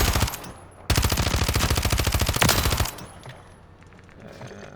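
A suppressed automatic gun fires on a video game firing range, two rapid sustained bursts of close, loud, evenly spaced shots, the second longer, then fading to quiet.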